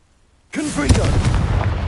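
A Confringo spell blast in Hogwarts Legacy on PS5, a sudden loud booming explosion that fills the sound after a quiet moment and rumbles on with a crackling tail.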